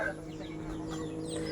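A chicken clucks softly in a short, low burst over a steady background hum, fairly faint and close.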